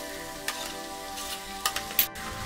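Bottle gourd (dudhi) pieces sautéing in a pan after onion, a faint steady sizzle with a few soft clicks and scrapes from stirring, close and quiet.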